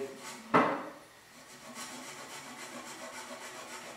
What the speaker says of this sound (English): Okay, so I'm going to have to resaw.